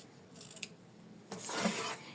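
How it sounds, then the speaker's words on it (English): Scissors trim a felt petal for an in-the-hoop embroidered tulip heart, a short faint snip followed by a longer, louder crisp cutting rasp, close and quiet, with no talking. "next, we trim finally this petal"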